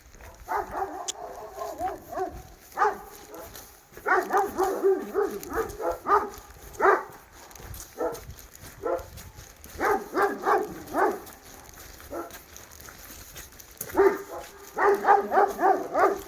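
Several dogs bark outdoors in a valley at night, with repeated clusters of yaps and barks at moderate distance and short gaps in between.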